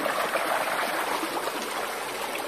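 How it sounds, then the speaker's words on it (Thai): Water flows in a waterfall stream at Huai La in Khong Chiam, Ubon Ratchathani, Thailand, a constant rushing splash close by with no voices. "มันก็จะมีน้ำไหลไปเรื่อย"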